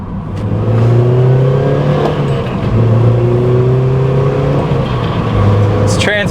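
A 187,000-mile NC Mazda Miata drives with its engine rising and falling through gear changes, loud and close, with whirring from a worn transmission in need of rebuild underneath; a voice talks over it.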